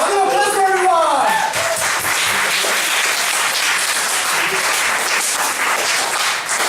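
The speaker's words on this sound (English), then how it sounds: "Round of applause for everyone!" An audience at an anniversary show bursts into loud applause and cheering, opening with a whooping voice and then settling into steady crowd clapping.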